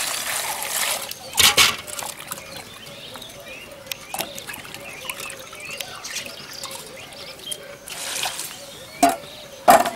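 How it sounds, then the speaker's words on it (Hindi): Onion and coriander leaves are washed in water, giving intermittent splashes, trickles and light clatter at close range over quiet room noise. "प्याज और धनिया पत्ती को हम पानी से साफ से धुल लेंगे"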